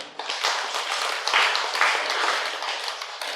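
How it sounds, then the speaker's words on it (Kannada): An audience claps together at a Kannada talk, a dense, steady burst of applause lasting a few seconds with no speech over it. "ವಾಲ್ಮೀಕಿ ಮಹರ್ಷಿಗಳಿಗೆ ಒಂದು ದೊಡ್ಡದಾದ ಚಪ್ಪಾಳೆಯನ್ನು ನೋಡೋಣ."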